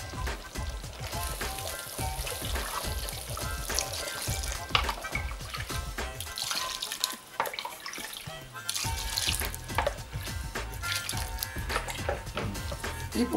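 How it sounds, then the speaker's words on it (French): Fish stock pours steadily into a gumbo pot of shrimp and crayfish, a continuous close splashing rush of liquid that carries on loudly throughout without talk. "Je vais rajouter du bouillon"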